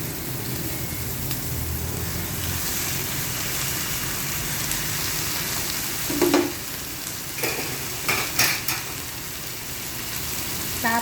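Fish frying in a pan with ginger, tomato and onion gives a steady, dense sizzle. Near the end come several louder clinks and stirring scrapes.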